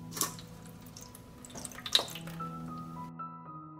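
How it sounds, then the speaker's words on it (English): Water trickles and splashes as two deciliters are poured into a pan on an oven tray holding jars, with a few drips and clinks before the flow stops and leaves silence. "I pour 2 deciliters of water into the pan"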